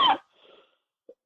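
A single short, husky throat clearing close to the microphone, followed by a faint breath and a tiny click in otherwise near silence.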